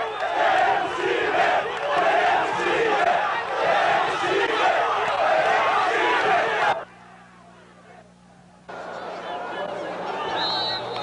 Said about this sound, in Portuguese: alguns torcedores do Paraná Clube protestam, gritando: queremos time